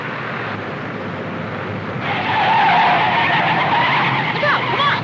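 A car skids hard with a tire squeal on a road during a 1961 crime drama chase, a sustained screech that swells louder after the first two seconds over a steady engine rumble.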